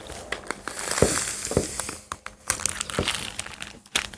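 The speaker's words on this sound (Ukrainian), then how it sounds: "Відсмоктали повітря" A plastic zip bag crinkles and rustles as air is sucked out through a cocktail straw to vacuum-seal it, with irregular close crackles and sharp pops spread over several seconds.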